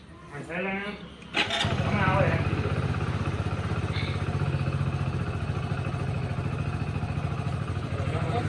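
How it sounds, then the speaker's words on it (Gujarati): A thresher machine in a village starting up after a short stretch of talk, then settling into a steady, loud mechanical drone with rhythmic clatter that runs unbroken to the end. "તો આ થ્રેસ છે ને હવે ચાલુ થયું છે"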